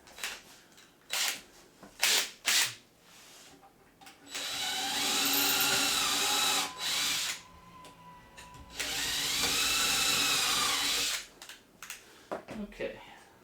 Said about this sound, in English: our drill bit was hitting the screw